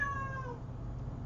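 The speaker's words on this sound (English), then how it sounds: "We got our cat over here." A cat gives a single short falling meow, faint over a low steady hum of background noise.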